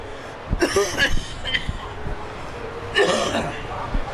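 Short coughs and throat-clearing bursts from commentators in a commentary box at an Ocean Thunder surf boat racing event, two clusters close to the microphone over steady background noise.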